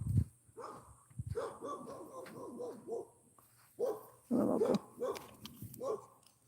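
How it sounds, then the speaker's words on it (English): Two dogs barking outdoors near chickens, loud close barks in quick runs alongside high yips, with short pauses between bursts. "Oh no, here comes the other dog. Oh snap! There are two dogs."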